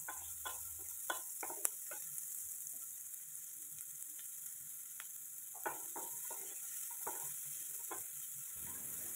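About a cup of sliced onion being stirred and sautéed in a pan for paneer butter masala. A quiet sizzle sits under sharp scraping ticks from a spoon at irregular intervals, with no one speaking.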